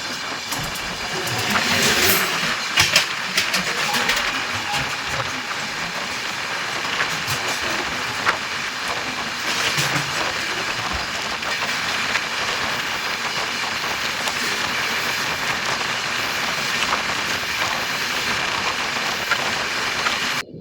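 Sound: Jodhpur Superfast Express train passing, from Howrah

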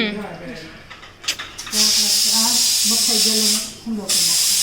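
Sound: pressure cooker hissing steam

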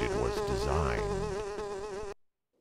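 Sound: buzzing mosquito in The Grinch video game

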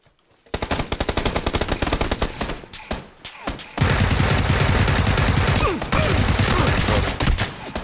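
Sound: gunfire in PlayerUnknown's Battlegrounds video game

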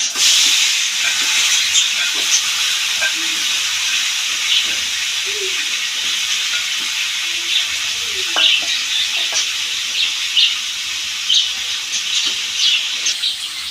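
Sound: taki fish frying in a hot wok

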